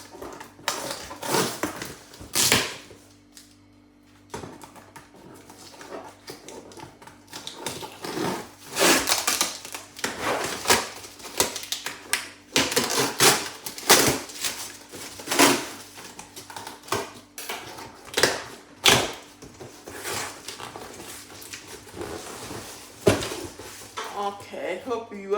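A LogiPack package sent from Germany is handled and opened: scattered loud bangs, rustles and cardboard knocks come in irregular bursts, with someone talking over them throughout.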